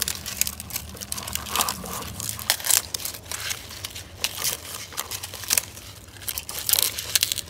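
Dried debris is being cut and pulled away from an Aloe brevifolia succulent in a large pot arrangement: continuous close crackling, crunching and crinkling, with scattered brittle snaps throughout, and no talking.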